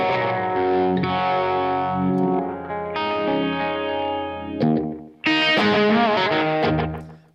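Electric guitar played through an amp with a short slapback delay and no reverb, chiming chords and single notes repeating closely behind themselves, loud and close, with a brief pause before the playing resumes.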